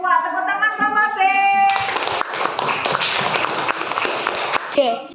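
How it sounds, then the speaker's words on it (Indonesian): Schoolchildren in a primary school class give a rhythmic group handclap, led by a short chanted phrase of young voices. The claps are brisk, close and fairly loud, and they continue steadily for several seconds. "Tepuk tangan kelompok B."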